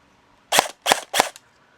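A Jingji SLR v4 toy gel blaster fires three sharp, snappy shots in semi-automatic mode, evenly spaced and close by.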